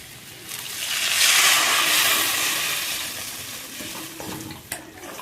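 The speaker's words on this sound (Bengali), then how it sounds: "এবার আমি ঝোলের জলটা দিয়ে দেবো" Water poured into cooked fish curry masala in a pan for parshe macher jhol: a steady rushing splash builds, holds for a couple of seconds and then fades into a soft bubbling sizzle, close by with no talking.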